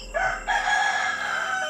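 A rooster crows once, close and loud, its drawn-out call rising and then holding steady.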